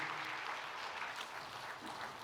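A church congregation applauds warmly after a choir's performance, a steady broadband wash of many hands clapping at once, sustained and even for a couple of seconds with no voices over it.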